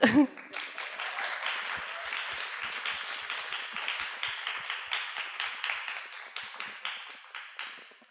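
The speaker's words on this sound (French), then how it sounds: "Vous pouvez les applaudir." An audience claps for several seconds, a dense patter of many hands that slowly thins out, with no talking.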